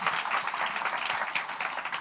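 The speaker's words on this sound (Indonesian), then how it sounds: "Bikin tepuk tangan" Church congregation applauding during an Indonesian Easter sermon, a steady dense wash of clapping hands throughout, fairly loud and close with no talk over it.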